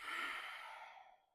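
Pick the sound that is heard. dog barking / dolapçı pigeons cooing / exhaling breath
exhaling breath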